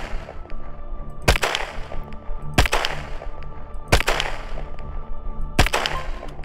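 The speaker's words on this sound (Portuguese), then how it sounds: "Vamos lá dar uns tiros aqui." Pistol shots in the shooting-range tutorial of Will To Live Online, four sharp, loud cracks spaced about a second and a half apart over a low background hum.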